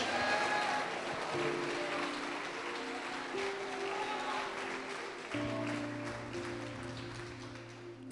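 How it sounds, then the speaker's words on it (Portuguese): A church congregation applauds, sustained even clapping from many hands at moderate distance, with a steady low tone underneath that grows stronger partway through. "pode aplaudir o Senhor e glorificar a Deus."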